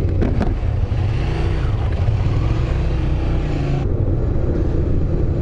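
A Honda VTR250 motorcycle rides through traffic, its engine droning steadily close by with a slight rise in revs before the tone shifts and settles; no talk.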